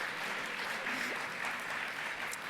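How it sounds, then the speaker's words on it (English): Audience applause fills the room at a New York public radio gala, steady and broadband throughout with a faint murmur of voices underneath. "applaud yourselves, for sure."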